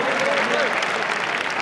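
A crowd in a hall at the Khasdar Krida Mahotsav sports festival in Nagpur claps hard. The dense applause runs steady and loud throughout, with a voice rising over it.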